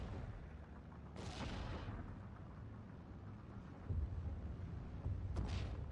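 Artillery fire in the video game Steel Division 2: two sharp distant booms cut through a steady low rumble, the second about four seconds after the first, with no talking.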